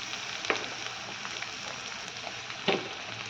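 Capsicum goes into a pan frying for chili chicken, giving a soft, steady sizzle with two brief louder clatters of stirring.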